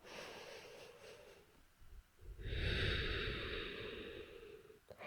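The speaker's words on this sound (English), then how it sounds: "Let's take another deep breath. Take it slow." One slow, deep breath, soft at first and then swelling into a long, airy rush of air, quiet and close in a calm meditation setting.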